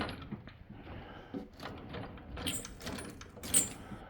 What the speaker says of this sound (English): And while we got the drawer open, now, the heaviest drawer I got is going to be